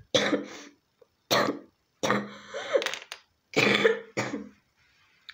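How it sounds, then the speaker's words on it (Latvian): Several sharp, dry coughs come close up in separated bursts with short silences between them, followed by a few quieter throat-clearing sounds. "Klepus bišku."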